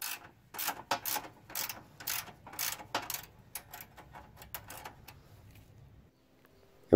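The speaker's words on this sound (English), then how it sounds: "all you have to do is remove these two bolts and nuts" A wrench ratchets on headlight assembly bolts and nuts of a Pontiac Firebird Trans Am in quick, close clicking bursts, followed by a quieter stretch of scraping.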